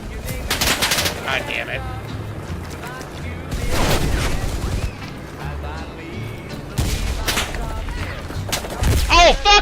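Machine gun fire from a WWII battle in the video game Enlisted, loud bursts of rapid gunshots and booms mixed with battle noise, while a man swears over the shooting.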